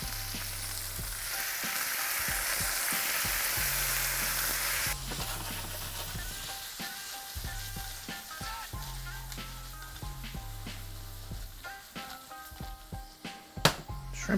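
Shrimps fry in a pan with a loud, steady sizzle that eases slightly midway, punctuated by occasional stirring clinks and a low pulsing hum.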